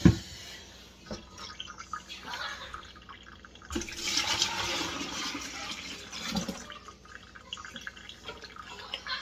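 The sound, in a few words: pouring starchy rinse water from washed flour dough into a jug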